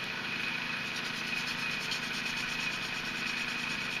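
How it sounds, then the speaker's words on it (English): Sandpaper rubbing steadily around a seam line on a model piece, a continuous close scratchy rasp with an even back-and-forth texture over a constant hum, no speech. "So I'm sanding all the way around it like this, so it's evenly sanded."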